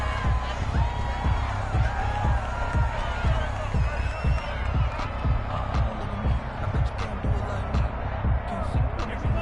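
Stadium crowd at a Kansas City Chiefs football game against the 49ers rumbles with scattered cheers and whoops, punctuated by repeated rhythmic thumps, loud and close throughout.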